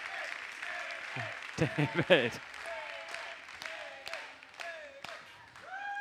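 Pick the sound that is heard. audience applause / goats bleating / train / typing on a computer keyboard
audience applause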